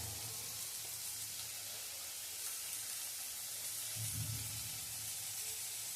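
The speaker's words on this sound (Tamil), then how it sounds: "இப்போ நல்லா வெங்காயம் நல்லா வதக்கி விட்டுருவோம்." Onions sautéing in a pan with garlic and ginger soon to follow, a steady low sizzle and hiss running throughout, with a brief louder stir-like swell near the end.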